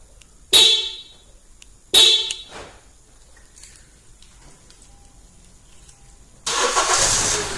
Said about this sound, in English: We're going to activate the remote starter by locking the doors 3 times.